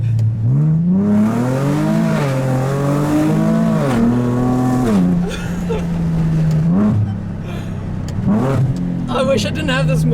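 Nissan 370Z sports car engine revving hard, a loud rising and falling growl with sharp throttle blips and gear changes, while passengers talk excitedly over it throughout.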